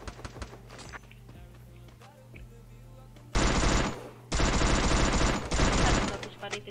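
In a competitive video game match, an MP5 submachine gun and a shotgun fire in loud, close, rapid bursts after a quieter stretch with a voice speaking, the volleys separated by short pauses.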